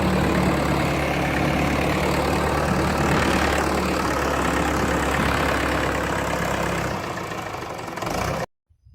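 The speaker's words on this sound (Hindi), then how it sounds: "ट्रैक्टर का जो प्लाव है उससे गहरी जुताई करनी पड़ेगी।" Tractor engine pulling a plough for deep tillage in a cucumber field, a loud, steady low rumble running continuously close by before cutting off abruptly near the end.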